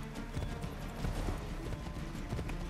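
Rhythmic clip-clop of a white horse's hooves at a steady trot in the video game Assassin's Creed 3, fairly close and crisp, with no talking.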